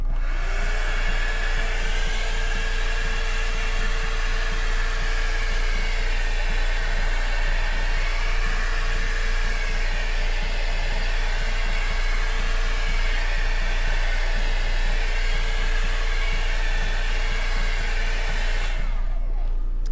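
A heat tool blows hot air over an acrylic ribbon pour painting with a steady, loud, dryer-like rush that runs unbroken for nearly twenty seconds before cutting off at the very end.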